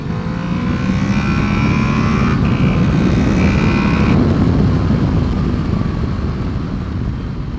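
A 2014 Honda VFR800 V4 engine climbs through its revs as VTEC engages, a loud steady roar with rising pitch under wind rush, heard from the rider's position on the move.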